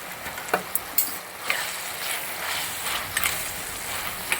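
Ivy gourd curry sizzling and frying in a pan while being stirred, a steady hiss broken by a few soft spoon scrapes and knocks.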